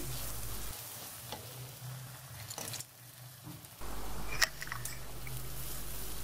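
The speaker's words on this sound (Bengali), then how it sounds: "মশলাগুলো খুব ভালোভাবে কষিয়ে নিতে হবে" Spices sizzling as they are sautéed in a pan for a chicken feet, wings and gizzard curry with potatoes; a steady frying hiss that drops away for a few seconds and then returns, with light stirring clinks.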